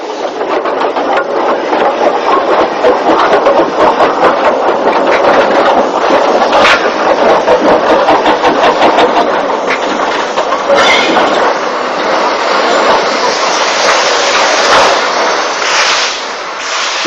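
Avonside 0-4-0 saddle tank steam locomotive built in 1929 in Bristol, running steadily close by with continuous loud rumble, rhythmic clickety-clack of wheels and hissing, no talk.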